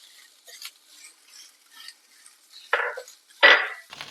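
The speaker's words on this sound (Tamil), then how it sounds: "எண்ணெயிலேயே ஒரு 2 நிமிஷம் நல்லா வதக்கிக்கோங்க." Grated coconut sautéed in oil for black urad dal rice: quiet, sparse light scraping and clinking of a spoon against the pan, with two louder scrapes near the end, close and without talk.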